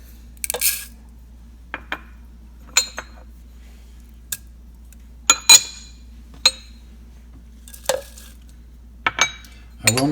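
A cheap stir stick clinks against a cup while mixing marinade ingredients, giving sparse, sharp taps and scrapes at irregular intervals over a quiet low hum, with no talking.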